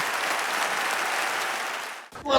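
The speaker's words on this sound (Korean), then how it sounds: "성도들의 큰 환호성이 터져나와 앙코르 공연으로 막을 내렸습니다" A church congregation applauds after a concert that closed with Handel's Hallelujah chorus, a dense, sustained wash of clapping that cuts off abruptly near the end.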